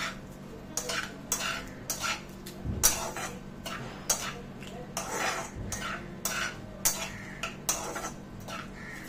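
Dal seasoned with salt is stirred in a metal pot, producing repeated close clinks and scrapes of a spoon against the pot in an uneven rhythm.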